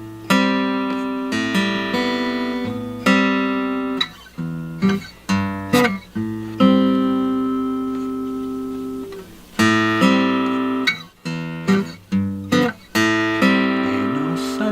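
Guild A-20 acoustic guitar played up close, strummed chords and plucked notes ringing out in a steady rhythm with pauses between phrases, loud and alone with no voices.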